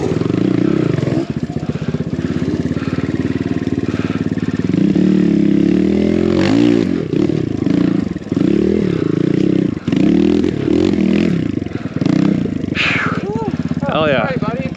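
A four-stroke enduro motorcycle climbs slippery rocks, its engine loud and close throughout, revving and bogging in uneven surges with clattering over the terrain and people talking over it.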